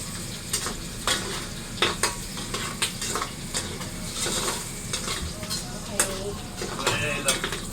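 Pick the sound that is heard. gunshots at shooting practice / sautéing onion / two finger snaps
sautéing onion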